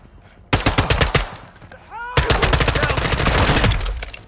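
Bursts of rapid automatic gunfire in Modern Warfare II, dense loud volleys that start abruptly and keep going with short pauses and a whizzing effect in the middle.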